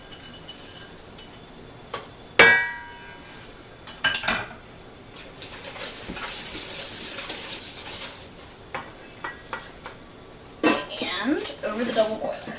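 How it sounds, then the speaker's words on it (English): A whisk clinks and scrapes against a bowl while sugar, egg yolks and chocolate are beaten together, with irregular metallic taps and swishing bursts at close range over a low background. "we are going to whisk"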